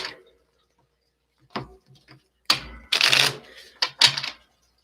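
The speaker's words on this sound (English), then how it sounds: "I'm going to shuffle 3 more here." Oracle cards shuffled by hand in several separate bursts of crisp riffling and slapping, close and fairly loud, with quiet gaps between them.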